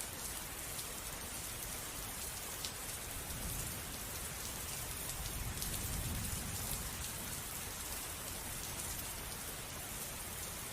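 Steady, dense rainfall pours down continuously at an even loudness, a broad hiss of drops with no voices and only slight swells in the low rumble.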